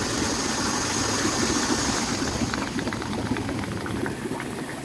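Air blower on a 26-year-old hot tub churns water in a loud, steady bubbling roar close by, with a faint motor hum underneath and no talk.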